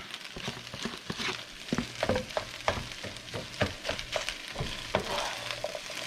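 Eggs fry in a pan for fried rice, crackling and sizzling up close while a utensil stirs and scrapes in repeated bursts.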